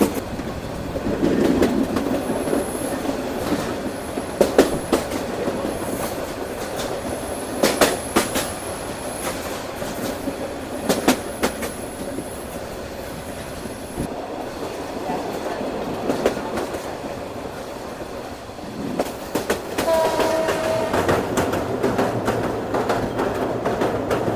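The Korotoa Express rolls along a Bangladeshi rail line that runs past houses, a continuous rumble from on board with steady clickety-clack wheel beats and brief high squeals from the wheels.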